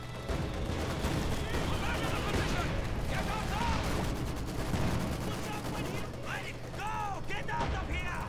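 A machine gun tower keeps firing steadily in Company of Heroes 2 multiplayer on the Western Front, set amid a busy 4v4 battle with continuous distant gunfire and explosions, while a player talks over the din.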